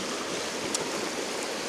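Stream water flows steadily beside a trail, a continuous close rushing wash with no pauses and no voices.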